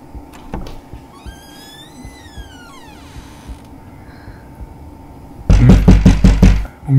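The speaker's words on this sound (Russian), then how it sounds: "Кто-то постучал в дверь." A burst of loud, rapid knocks on a door erupts near the end after quiet creaking and faint mechanical sounds, the knocks hammering several times in quick succession close by.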